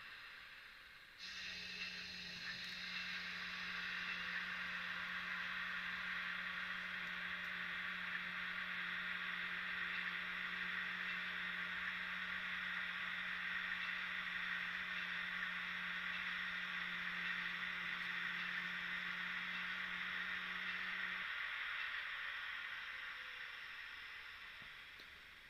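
A simulated SJ Of 78-79 steam locomotive sits running in a train simulator game, giving a steady hiss with a low mechanical hum that starts abruptly, holds unchanged for about twenty seconds, then the hum stops while faint hiss lingers.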